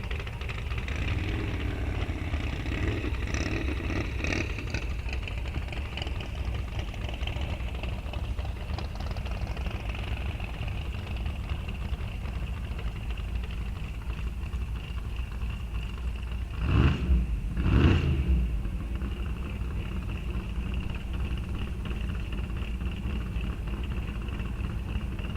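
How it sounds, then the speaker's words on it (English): A very fast 1986 Mustang drag car at Rock Falls Raceway idles with a rough, steady engine rumble, then gives two quick, loud hissing nitrous purges close together. "Lots of nitrous purge in here."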